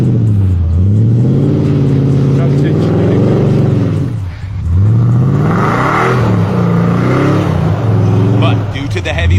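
Supercharged 5.7-liter V8 Toyota Tundra revving hard while climbing a snowy hill with lockers engaged, engine pitch rising and falling in repeated loud surges with a brief dip midway, close and dominant.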